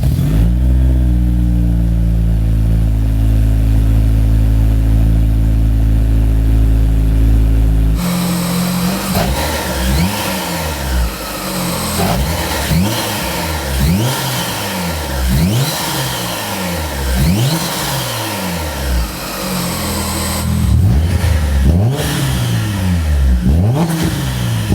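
A Honda S2000 with a Kraftwerks supercharger idles steadily, then revs and accelerates repeatedly through the gears, loud and close, with no talking.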